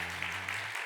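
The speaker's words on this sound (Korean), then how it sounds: "특별히 응원의 박수 한번 하도록" A church congregation at a year-end Sunday service claps together in brief, dense applause under a sustained low organ-like hum, the sound close and continuous for under a second.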